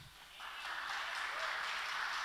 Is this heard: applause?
yes